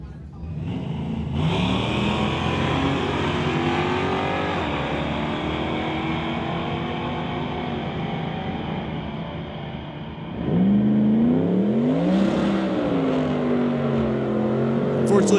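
A 1978 Malibu and a 1981 Pontiac line up at a street-legal drag race, engines droning loudly and continuously before a sharper surge of revving near the end, with an announcer talking over the noise.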